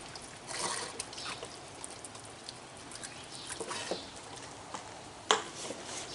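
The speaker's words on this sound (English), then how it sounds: "you want to douse your briquettes or whatever you're going to use with charcoal starter. Give it a good dousing" Charcoal starter fluid poured over briquettes, a soft, steady trickle and splatter heard close up outdoors, with faint rustles and a brief knock partway through.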